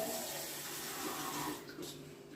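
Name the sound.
water poured into pressure cooker with beef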